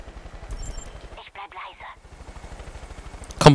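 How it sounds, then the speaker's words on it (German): Steady rhythmic thumping of helicopter rotors in Far Cry 5, with a voice briefly over it and a sharp burst at the end. "Bist du immer noch in dem Helikopter da oben?"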